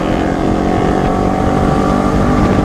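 A motorcycle fitted with a loud aftermarket exhaust on a Sunday morning group ride gives a dense, steady, close roar that holds throughout without easing off.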